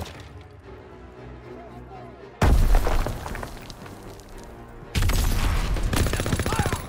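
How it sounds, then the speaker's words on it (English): Grenade blasts and gunfire erupt in the Call of Duty: WWII video game, with two sudden loud explosive bursts of rattling fire and booms following a quieter stretch of ambient battle noise and voices. "Throwing a grenade!"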